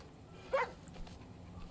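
A mixed-breed dog in the video game Far Cry 5 gives one short, faint yelp or whine partway through, over quiet game ambience.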